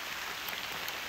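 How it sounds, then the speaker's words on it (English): Hail and rain fall steadily in the Adirondack woods near De Bar Lake, a dense, even hiss of drops and pellets with no voices. "It's hailing and raining right now."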